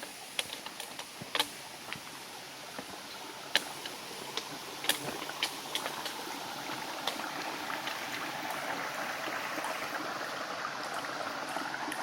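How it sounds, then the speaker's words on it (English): A small stream trickles and burbles steadily along a hiking trail on the Pine Cobble trail of the Long Trail, a soft continuous wash with faint clicks and drips, heard alone without voices. "Oh, there's a nice little stream here."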